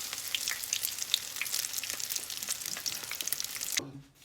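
Fish sizzles and crackles loudly in a hot pan, a dense continuous spitting that cuts off abruptly near the end.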